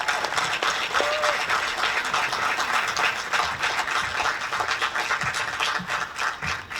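A graduation audience at a college commencement bursts into sustained applause for the incoming speaker, a loud, dense wall of clapping from a large crowd, with scattered voices mixed in.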